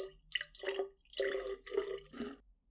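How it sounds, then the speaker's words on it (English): Milk is poured into a barista's jug in a series of short, close, soft liquid bursts with brief pauses between them, quiet and intimate. "Now, the milk. Pour some into this jug."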